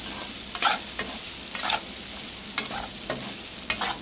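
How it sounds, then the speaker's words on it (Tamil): Rice being stirred into fried egg in a pan over a low flame, a constant sizzle under a handful of sharp scraping strokes of a spatula, close and regular. "போட்டுட்டு அதை நல்லா மிக்ஸ் பண்ணி விடுங்க."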